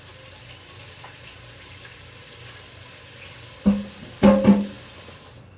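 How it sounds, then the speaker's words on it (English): A kitchen tap runs faintly in the background as hands are washed at a sink, followed by a few short, louder splashes and bursts near the end. "Let me wash my hands before I touch anything else."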